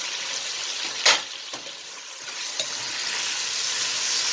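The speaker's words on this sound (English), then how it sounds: "And then now we're gonna put our onions" Sliced onions frying with garlic in a pan for beef asado, a steady close sizzle with a couple of brief stirring scrapes.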